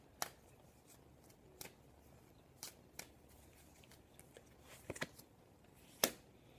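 Tarot cards are shuffled and drawn in a quiet room, with a series of soft riffles and sharp snaps spread irregularly across the stretch and no one speaking.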